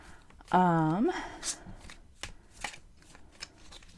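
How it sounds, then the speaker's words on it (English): Oracle cards shuffled by hand at close range, giving a few sharp, papery riffles and snaps spaced irregularly after a short vocal sound near the start. "I'm going to dive right in and start shuffling."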